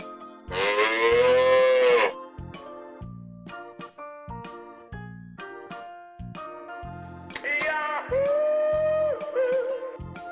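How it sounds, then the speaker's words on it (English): Cow mooing in two long drawn-out calls, one near the start and one later, loud and clear over a light, plinking musical backing, with no talking. "Cow."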